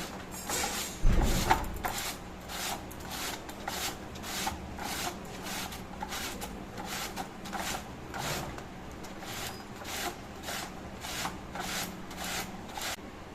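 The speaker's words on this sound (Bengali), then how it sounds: "বটি দিয়ে কাটলে কিন্তু আমি এতটা শুরু করে কাটতে পারতাম না এই জন্য এই ঘষণি দিয়ে আমি ঘষে নিচ্ছি" Ash gourd is rubbed against a hand grater in steady, rhythmic rasping strokes, close and fairly quiet, continuing evenly throughout after a louder knock near the start.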